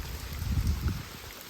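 Soft, steady patter of rain with a low background rumble, fairly faint and continuous, no voices.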